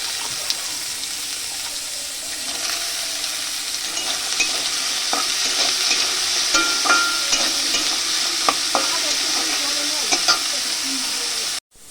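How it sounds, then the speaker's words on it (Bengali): Carrots fry in oil in a kadai, a constant close sizzle broken by frequent clicking, scraping stirs, and the sound cuts off abruptly at the end. "এবার ওই তেলেই কড়াইতে এবার আমি এই গাজরগুলো ভেজে নেব"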